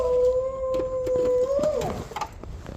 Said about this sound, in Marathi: काय डेंजर कुत्रा आहे हो, चावलंच असतं आता मला